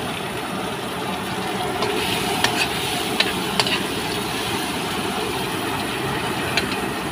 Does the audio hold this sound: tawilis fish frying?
yes